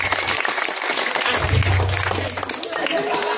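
Audience applause at a Balinese comedy show, a short burst of clapping and crowd noise heard close, with a voice speaking over it.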